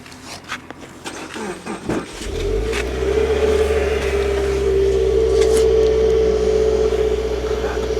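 A Subaru WRX sports car's exhaust starts up with a few sharp bursts, then settles into a loud, steady, deep rumbling idle close by.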